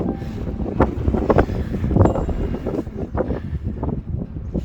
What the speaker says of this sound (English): The wind is coming from straight ahead.